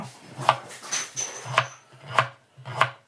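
Two whole, unpeeled carrots are chopped with a knife on a board, giving four or five distinct, close thuds at a slow, uneven rhythm, with faint rubbing between cuts and no talking.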